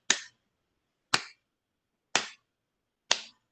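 Four evenly spaced, sharp taps on a table, about one per second, each crisp and isolated in silence, mimicking a slow heartbeat.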